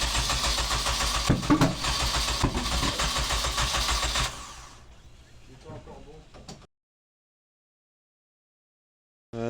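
A Nissan Micra swapped with an SR20DE engine cranks and fires up, then runs loud and steady for about four seconds before dropping to a quieter idle, with people talking over it, then it cuts to silence.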